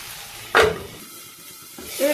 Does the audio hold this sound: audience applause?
no